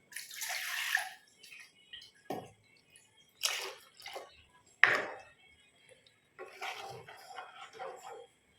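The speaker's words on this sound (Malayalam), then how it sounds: "അപ്പോൾ കുറച്ച് വെള്ളം കൂടെ ഒഴിച്ചു." Water is poured into a simmering king fish curry already sharp with tamarind. It comes in several short splashing bursts separated by pauses, close by and moderately loud, with no one talking.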